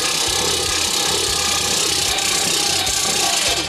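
A Chinese-made hand-crank forge blower whirs continuously with a rattling mechanical hum, air hissing out through a loose, leaking pipe joint, loud and close.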